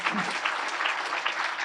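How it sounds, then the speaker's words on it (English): An audience at a law symposium claps steadily in sustained applause for a panel, a dense, even patter of many hands. "Give them a round of applause."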